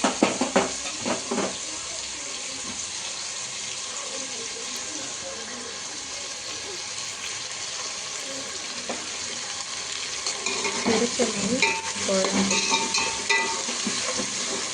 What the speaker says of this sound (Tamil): வதங்கிட்டு இருக்குது. நல்லா கிளறி விடுங்கள்.